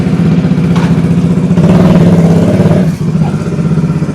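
Bajaj Dominar 400 motorcycle with its engine running up close, a loud, steady, throbbing idle with a brief dip partway through, alone with no speech.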